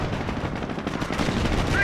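Dense gunfire and cannon fire from the World War II strategy game Company of Heroes, a 4v4 battle with King Tigers, Panthers and anti-tank guns, crackles as a continuous loud barrage with overlapping shots and no clear pauses.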